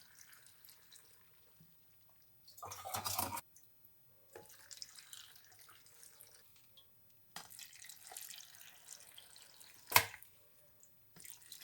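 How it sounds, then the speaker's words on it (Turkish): Olive brine is poured into a jar of cracked green olives in a home kitchen, coming as two short splashing, trickling bursts with quiet pauses and a faint clink between them. "hemen zeytinlerimin suyunu koyuyorum"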